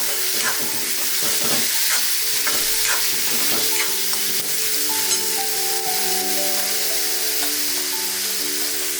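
Dal and onion bhaji mixture is stirred in a pan, the spoon scraping rhythmically through a continuous loud sizzle, with no talking.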